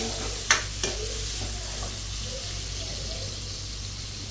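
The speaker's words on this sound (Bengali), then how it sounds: "মাথাগুলা তেলের ভিতরে দিয়ে দিলাম" Fish heads drop into hot oil with two sharp splashes, then a continuous close sizzle crackles steadily underneath a low background hum.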